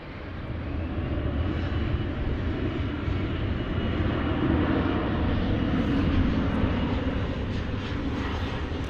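A jet airliner at DFW airport at night roars steadily at full takeoff power, a loud, continuous engine rumble and rushing noise that holds evenly throughout.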